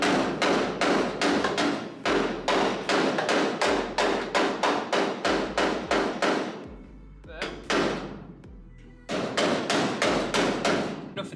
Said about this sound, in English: Nothing that a bit of hammering won't stop.